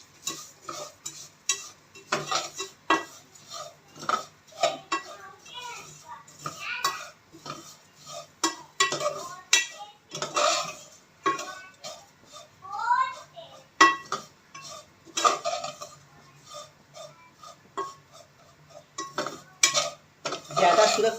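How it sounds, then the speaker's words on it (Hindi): Crushed vermicelli being fried in ghee over a slow flame, a spoon stirring and clinking against the pan in irregular scrapes and taps, close up, with a voice talking over parts of it. "इसके अंदर हम ये वाली जो मैंने सेवियाँ चूरा किए ना इसके अंदर डाल, बिल्कुल स्लो आंच पे इसको फ्राई करें"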